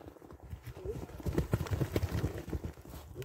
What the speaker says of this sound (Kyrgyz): азыр атты бир сыра чаптырып көрөлү